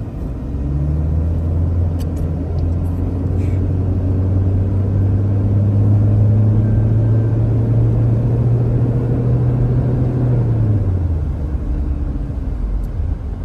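A Toyota Fortuner on a test drive hums with a steady low engine and road rumble from inside the cabin, loud and constant, with the pitch easing down toward the end and no talk.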